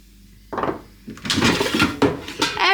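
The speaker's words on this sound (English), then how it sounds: "Air fry basket open." Air fryer basket pulled open, a short clunk followed by a series of hard plastic and metal rattles and scrapes up close, with no talk.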